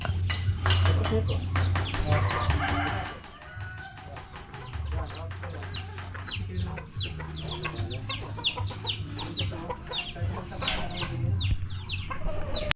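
A laying hen clucks repeatedly in short bursts alongside a low steady hum, with occasional louder squawks; a farmyard setting with steady background noise.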